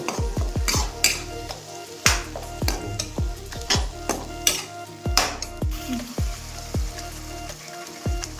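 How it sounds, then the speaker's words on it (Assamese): Ginger garlic paste frying in a pan, with steady sizzling under repeated scraping strokes of a spoon against the metal, close and clear, with no voices. "এতিয়া ভাজিব লাগিব যেতিয়ালৈকে ভালকৈ মিক্স নহয়"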